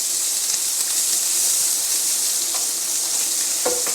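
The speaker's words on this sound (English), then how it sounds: "The bacon is crisping up lovely, and I'm now going to add a knob of butter, just a small dollop, and the onions." Bacon, butter and onions sizzle steadily in a frying pan with a loud, continuous hiss, while a spoon stirs through them and gives a few soft scrapes near the end.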